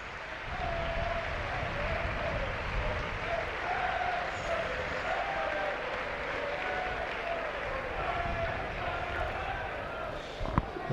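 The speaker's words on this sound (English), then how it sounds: "a huge round of applause for Chris Birchill" Stadium spectators at a 2005 Halifax v Castleford rugby league cup match keep up sustained applause for an injured player, a dense, even roar of clapping with a crowd murmur and a commentator's voice faintly underneath.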